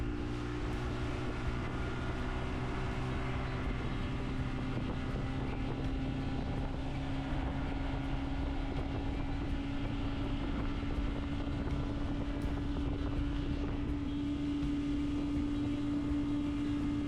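A jet boat with a 454 blown alcohol engine runs steadily on Elephant Butte Lake, a constant loud drone with rushing wind and water noise throughout.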